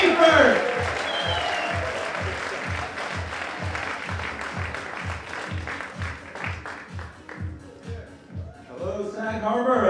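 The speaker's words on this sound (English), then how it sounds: "Keep the applause going for Chris Seifert." A comedy audience applauds comedian Chris Seifert at a Sag Harbor show, clapping under a steady rhythmic beat of walk-on music, with a voice calling out at the start and again near the end.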